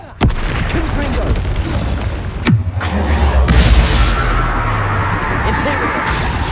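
A Confringo blasting curse exploding in the video game Hogwarts Legacy: a sharp crack followed by a deep, rolling boom that swells and lingers, amid sweeping whooshes and other spell effects in a loud, busy battle.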